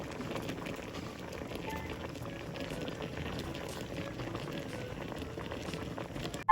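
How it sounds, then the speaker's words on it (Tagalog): A pot of fish paksiw, anchovies wrapped in banana leaves, bubbles at a steady rolling boil, a dense continuous gurgle heard close up with no one speaking. "Kumukulo na siya."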